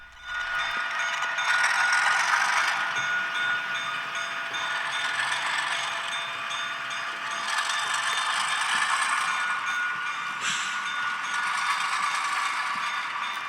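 Bachmann RS-3 model railway locomotive with a sound decoder running on track, giving a continuous close mechanical whir and rattle with some louder clattering passages and no talking.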